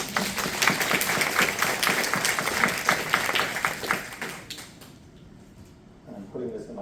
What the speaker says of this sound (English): All right, let's clap for the League of Women Voters, please.